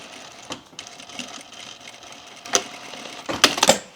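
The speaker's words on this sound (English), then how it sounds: "If you're using a coil chain, you can sew right through it." A sewing machine whirs steadily as it stitches through a coil chain zipper on a rain jacket, with a few sharper mechanical clacks and bursts toward the end.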